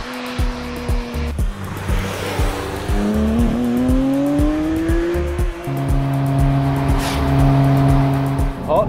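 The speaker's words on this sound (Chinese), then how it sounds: "它的排气管的声音原厂都压得很保守，你其实真正听到是这个共鸣声" A Porsche Cayman GT4 RS drones loudly at close range while driving, its engine and exhaust resonance climbing in pitch as revs build. It then settles into a steady hum, with brief tyre noise at the start.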